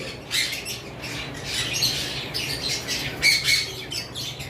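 Green cheek conures at a breeding farm give sharp, repeated squawks and chirps, mid-distance, with steady cage and room noise between the calls.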